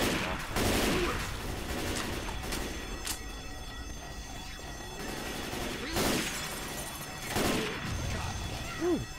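Gunfire in the zombie shooter Left 4 Dead 2, several loud bursts of shots spread across the clip with game noise and rumble between them.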